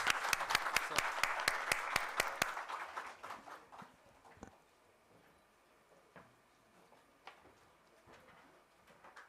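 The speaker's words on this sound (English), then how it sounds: "Another round of applause" Audience applause at a rural development colloquy in New Delhi, loud and dense for about three seconds, then thinning into scattered claps that trail off into a quiet room.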